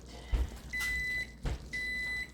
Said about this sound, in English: Yes, I know, microwave.